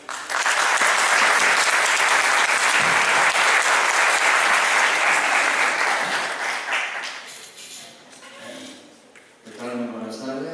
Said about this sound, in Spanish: démosle un gran aplauso a Leonardo